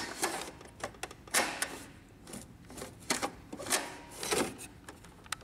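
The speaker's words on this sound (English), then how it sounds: "Check if the carriage moves freely." An Epson printer's cartridge carriage is pushed back and forth by hand, giving a string of faint, quick plastic clicks and rattling slides spaced irregularly.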